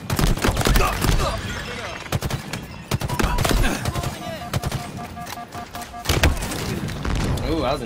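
A grenade blast in the video game Halo Infinite lands amid a dense stretch of gunfire and chaotic combat, with loud impacts recurring through the scene and a voice talking over parts of it.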